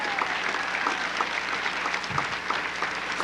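An audience applauds the subjects of a hypnosis show, a dense, steady wash of many hands clapping that holds evenly for the whole stretch with no voices standing out.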